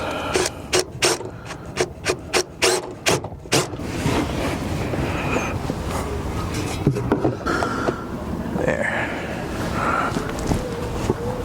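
A rivet being set on a mudflap opens with a quick series of sharp, evenly spaced ratcheting clicks close by, then gives way to a duller grinding and rustling mechanical noise.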